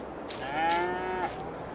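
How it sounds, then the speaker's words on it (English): Cows mooing inside a barn in Farming Simulator 22, one long clear moo with a rising and falling pitch that swells in the middle, fairly close, over faint background noise. "What's going on in here? Cows?"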